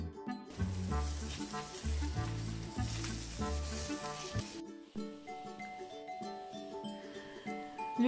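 Azerbaijani lula kebab sizzling as it cooks over a manqal grill, a steady loud frying hiss with faint clinks, then a quieter stretch of cooking sound.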